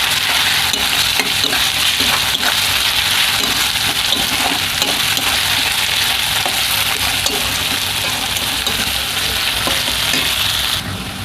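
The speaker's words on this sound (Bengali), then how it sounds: "তো রসুনটাও ভালো করে ভেজে নেব, যাতে রসুনের কাঁচা গন্ধটা চলে যায়।" Garlic paste frying with onions in a pan for a mutton curry gives off a loud, steady, close sizzle that crackles without pause, with occasional stirring and no voices.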